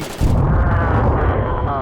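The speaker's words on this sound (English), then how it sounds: "That's right, you can shoot guns, baby!" Gunfire in a VR shooting video game: a loud, sustained burst of rapid shots starts abruptly and continues dense and unbroken, close and dominant.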